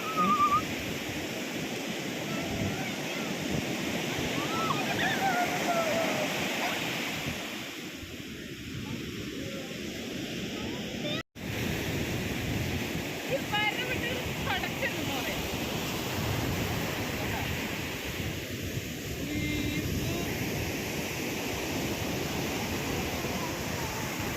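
Sea waves wash in at an evening beach in Thrissur, a continuous rushing surf with wind across the microphone, while people talk and exclaim over it.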